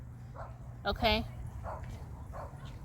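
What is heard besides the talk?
dog barking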